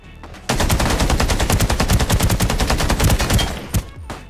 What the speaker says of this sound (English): that silly bloody noise when you hit people with the bullets